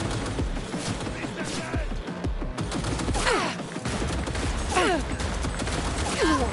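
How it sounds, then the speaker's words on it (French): Gunfire from the video game Cyberpunk 2077, with dense bursts of shots and crashes running throughout at steady loudness, mixed with game sound effects. "Qui me tire dessus?"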